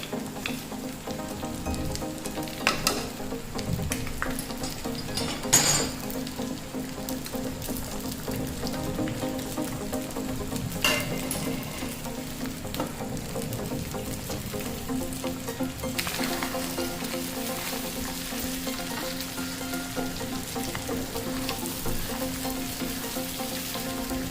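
Cashews, green chillies and curry leaves sizzle steadily in hot oil in a pan for chicken pepper fry, a continuous bright crackle with a few louder pops and spatters and no talking.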